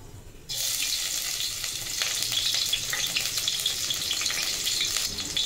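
Cumin and mustard seeds with green chilies dropped into hot oil for sabudana khichdi: a sudden burst of loud, dense crackling sizzle that holds steady and close after a quieter start, no voices.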